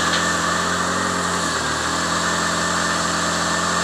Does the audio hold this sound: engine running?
yes